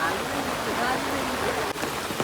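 Heavy rain pours over a farm field while floodwater rushes past, a steady broadband wash with no break, loud and close throughout.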